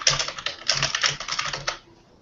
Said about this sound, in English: You're a loud typer.